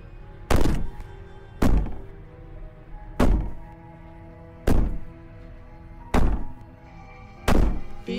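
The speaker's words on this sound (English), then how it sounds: "Bang on that door all you want" Six heavy, evenly spaced bangs on a door in the video game Slay the Princess, each a loud booming thud about a second or so apart, with no voices.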